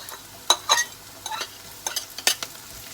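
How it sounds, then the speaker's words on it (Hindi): Chopped garlic and ginger fry with light golden onions for a capsicum and lamb mince dish, a low sizzle under several distinct spatula scrapes and stirring strokes against the pan. "अब हम इसमें कटा हुआ लहसुन और अदरक शामिल करते हैं और उसे भी फ्राई होने देते हैं"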